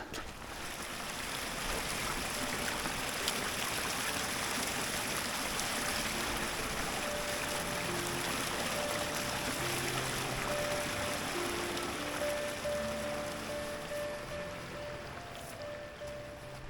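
A mountain stream runs steadily near a remote camp trail, a constant broadband rush and trickle of water that stays loud and unbroken throughout, with no talking.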